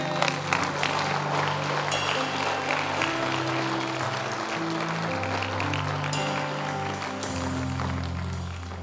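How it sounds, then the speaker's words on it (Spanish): A church congregation claps during a Spanish-language sermon in El Paso, Texas, with loud, sustained applause blending with music and a low sustained tone underneath, the whole room filling the sound. "Denle un aplauso a Dios."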